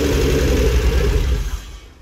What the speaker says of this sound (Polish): W momencie, kiedy kręcimy poprzez tryskiwacze, po prostu dostaje się pewna dawka paliwa. Na niej silnik załapuje.